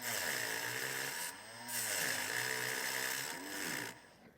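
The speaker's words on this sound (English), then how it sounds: "we're just going to take a Dremel and with a cutting wheel and just lightly score this aluminum crimp" Dremel with a cutting wheel lightly scoring an aluminum crimp on a transmission cooler hose, a whining motor buzz that dips and rises in pitch as the wheel bites, fairly close and alone.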